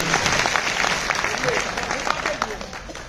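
Audience applause rings out at a gathering in Bhagalpur, Bihar, a steady wash of clapping from a crowd lasting about three seconds, with voices mixed in.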